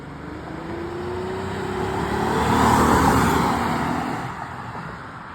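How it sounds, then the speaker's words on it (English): A car rolls by at low speed, with a steady road and engine rumble that swells to a peak midway and then fades again. "Right now the car is moving at a low velocity"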